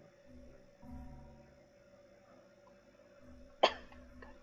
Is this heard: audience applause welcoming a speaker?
no